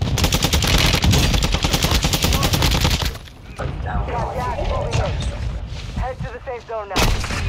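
Rapid bursts of automatic gunfire from a video game shootout, loud and dense for about three seconds, then quieter scattered shots and clatter with brief chirping effects, ending in another loud burst.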